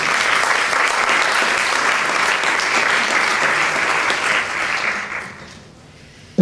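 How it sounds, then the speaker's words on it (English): An audience at a school program event gives a sustained round of applause, dense and steady clapping that swells for several seconds and then fades out. "Please give him a round of applause."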